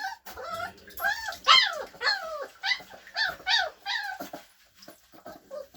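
A Shepsky puppy gives a run of high, yelping barks and whiny yips, close and repeated in quick bursts with short pauses between, at bathtime.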